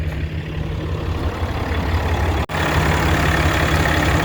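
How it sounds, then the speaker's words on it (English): A 2014 Ram 3500 with a Cummins diesel and 450,000 miles idles steadily with injectors due for replacement, a loud, even low rumble that drops out for a moment midway before resuming. "you could tell how responsive it is, and the way the engine idles"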